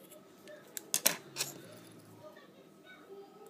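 Scissors snip cotton wick on a vape RDA coil: a few quick, sharp metallic clicks close to the microphone, faint in a quiet room.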